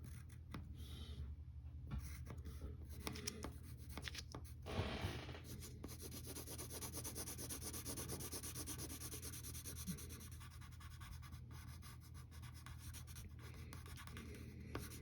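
A pencil scratches and rubs across paper in continuous strokes, drawing and shading a sleeve on a sketch of the Riddler. The sound is close, quiet and steady, with no talk.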